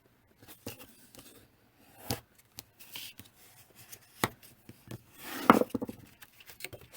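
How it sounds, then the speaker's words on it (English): Paper cardstock being creased and folded with a bone folder for a handmade card, quiet sharp taps, scrapes and crinkles in scattered bursts, close up with no talking. "I'll get my bone folder. And then same thing, fold once"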